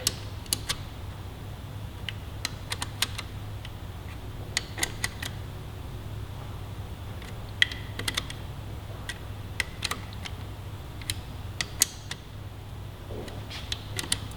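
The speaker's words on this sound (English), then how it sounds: "Now we'll begin to torque these all down" A torque wrench tightening engine cover bolts on a Yamaha R3 motorcycle fitted with a GB Racing cover: sparse sharp clicks and ratchet ticks scattered over a low steady hum, close and fairly quiet.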